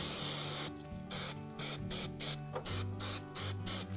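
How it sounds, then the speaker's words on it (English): Fast-drying spray mount adhesive hisses from an aerosol can onto a model railway layout in a string of short, loud bursts with brief pauses between them. "it's actually very, very fast drying spray mount, and it's also immediately sticky, so just get loads of it on there"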